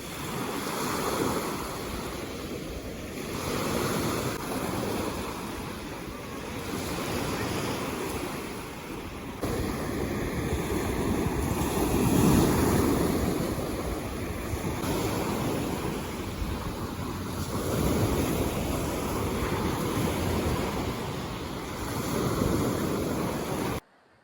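Sea surf rolls steadily onto the beach at Chornomorsk, a continuous broad wash with gentle swells building and easing, mixed with some wind rumble against the microphone.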